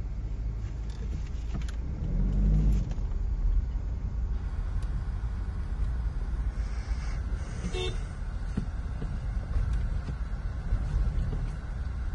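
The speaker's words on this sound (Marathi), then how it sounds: "घ्या साईडला मागून जोरात गाडी." A car passes from behind on a busy street during the Lalbaugcha Raja darshan crowds, with a low engine rumble swelling briefly over constant road noise and distant clatter.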